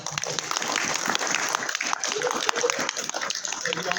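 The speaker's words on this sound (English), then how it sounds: "So round of applause." A round of applause from an audience honoring Theresa Cassaday, steady clapping filling the clip with some voices mixed in.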